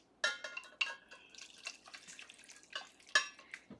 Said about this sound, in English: I'm going to put in half of my lye water and I'm going to whisk it